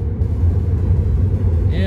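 A car being driven along a road gives a steady, loud low rumble of engine and tyre noise from inside the cabin, continuous throughout.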